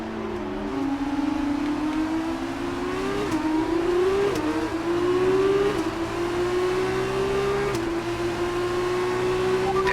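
An F1 car engine in a racing video game screams loudly, its pitch climbing repeatedly with a drop at each gear shift, sustained and unbroken with no speech.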